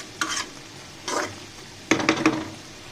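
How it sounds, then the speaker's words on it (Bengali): Eggplant sautés in a pan while a spatula stirs it in three short bursts of scraping and clinking over a quiet background sizzle, close and without any talk. "আমি 5 মিনিট মতো এটাকে কষিয়ে নিব"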